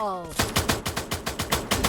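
Rapid automatic video game gunfire in a steady burst of about ten sharp shots, loud and close, with a brief electronic sweep just before it starts.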